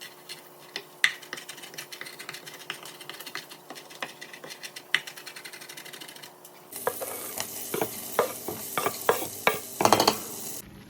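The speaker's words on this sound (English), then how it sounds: "we've got our bacon in the pot, sizzling right now with some diced onion in there" Bacon and diced onion sizzle steadily in a pot for chili, with scraping stirs and sharp utensil clicks that grow louder and busier partway through; no one speaks.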